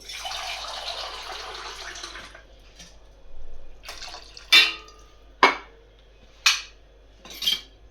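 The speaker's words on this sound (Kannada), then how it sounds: "ಹುಣಸೆ ಹಣ್ಣು ರಸಕ್ಕೆ ನೀರು ಸೇರಿಸ್ಕೊಳ್ತಾ ಇದ್ದೀನಿ," Water poured into tamarind juice for rasam starts as a steady splashing stream that stops after a couple of seconds, followed by several sharp clinks and taps of a vessel or utensil up close.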